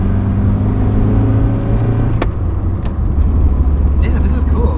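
A Toyota AE86 engine drones steadily while driving, a loud, close low hum with cabin road noise and a couple of brief clicks, no clear revving.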